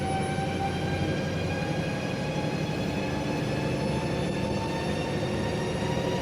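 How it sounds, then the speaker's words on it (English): A Scania R650 truck with a 16.4-litre DC16 V8 turbo engine runs on a dyno, its turbo whistling as a steady high whine over a constant dense engine roar, loud and unbroken throughout. "Now you can really hear the turbo whistling."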